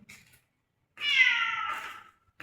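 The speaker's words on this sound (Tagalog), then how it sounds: "Pusa." A single drawn-out meow from a cat in a dark, abandoned condominium, clear and fairly close, with brief faint sounds before and after and otherwise quiet surroundings.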